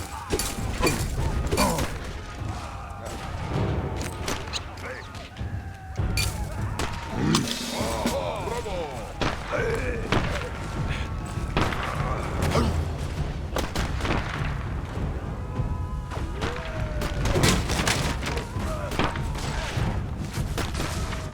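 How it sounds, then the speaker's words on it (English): Battlefield cannon and gunfire from the World War I video game Valiant Hearts, near the Marne, with steady booms, rattling shots and mechanical clatter layered over a dense rumbling din throughout. "We heard cannon fire for the first time today."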